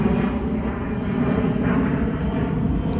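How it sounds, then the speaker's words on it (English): An airplane passes overhead as a steady, fairly loud broadband roar that holds without a break, with no talking while it goes by. "Let me let the plane pass."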